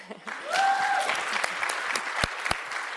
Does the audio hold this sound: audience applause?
yes